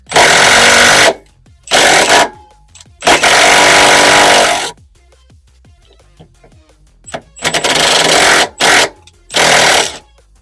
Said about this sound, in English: Next, we're going to be removing this 13mm nut here, which is the bracket for the handbrake cables.